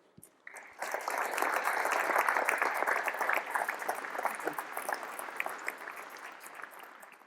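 Sustained applause from a convocation audience at Case Western Reserve University as a speaker is welcomed, a dense rolling clatter of many hands that swells quickly, holds steady for several seconds and then slowly tapers.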